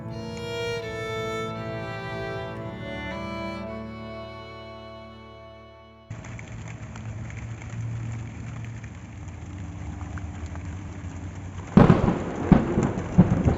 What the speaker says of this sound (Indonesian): kami terjebak hujan petir di atas bukit